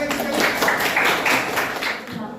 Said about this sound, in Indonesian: Ya, tepuk tangan lagi sekali.